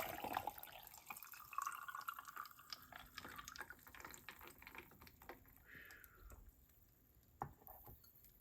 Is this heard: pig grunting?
no